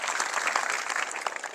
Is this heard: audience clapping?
yes